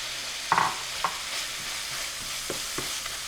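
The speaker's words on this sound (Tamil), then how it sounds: "நல்லா அந்த கிரேவி வந்து கொதித்து வந்துட்டுருக்கு." Fish chukka gravy bubbling in a pan while a spoon stirs it, with scraping clicks and soft pops over a low simmering hiss, close and fairly quiet, with no talking.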